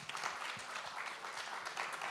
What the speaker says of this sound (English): So a round of applause for my friends over here, please.